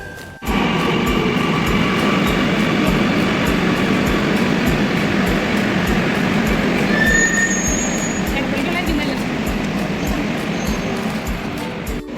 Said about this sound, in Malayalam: ഞങ്ങൾ മെട്രോ കയറാൻ പോവാണ് മെട്രോ കയറട്ടെ കേട്ടോ